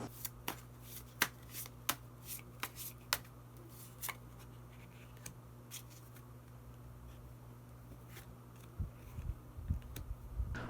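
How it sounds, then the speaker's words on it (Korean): A deck of tarot cards is shuffled close up before a hidden card is drawn, making a series of crisp riffling snaps and flicks at irregular intervals over a faint steady hum. A busier burst of handling comes at the end, with no speech. "그러면 마지막으로 히든 카드 한 장 더 뽑아보도록 하겠습니다."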